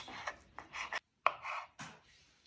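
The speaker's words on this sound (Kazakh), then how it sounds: "Үстіне жұмыртқасын турайтын боламыз." A knife cuts through boiled eggs on a board in a handful of quiet, separate slicing strokes with short pauses between them.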